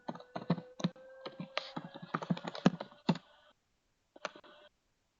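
Typing on a computer keyboard during an online training session, heard as irregular bursts of close, crisp keystrokes, followed by a pause and a short final flurry.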